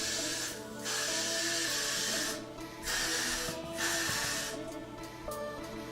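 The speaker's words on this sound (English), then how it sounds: "gonna spray over the styling gel with the blasting freeze spray" Hair freeze spray hissing from an aerosol can in a few long bursts with short pauses between, close by and fairly loud.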